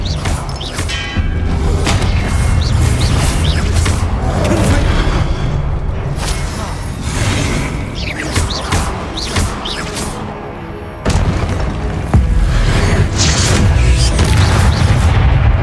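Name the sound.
Expelliarmus spell cast in a Hogwarts video game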